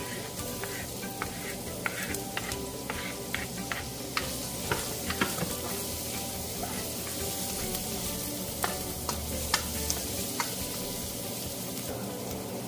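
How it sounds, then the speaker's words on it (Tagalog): Garlic and ginger sautéing in a pan, a steady close sizzle with frequent light crackles and pops and intermittent stirring, moderately quiet and alone without talking. "Sugod natin yung bawang at luya."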